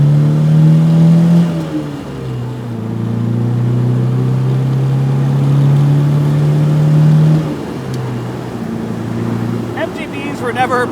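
A 1970 MGB with its twin-carburettor 1.8-litre B-Series four-cylinder pulls hard, the engine note rising steadily through the gears at close range, dropping briefly between shifts.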